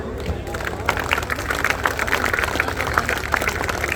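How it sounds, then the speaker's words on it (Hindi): An audience at an all-India mushaira claps along, a dense, steady run of many hands with crisp overlapping slaps and a low hubbub underneath, continuing for several seconds. "अब तालियां बजाकर दिखाओ मुझे"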